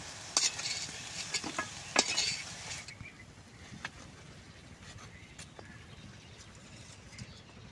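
Taro flower fritters frying in a pan: a crackly sizzle with louder stirring and utensil clatter over the first few seconds, then a quieter, steady frying hiss.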